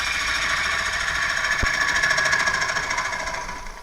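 A lathe cutting tool works a spinning workpiece, giving a dense, steady grinding whir with rapid rhythmic pulsing, a single sharp tick partway through, fading slightly near the end.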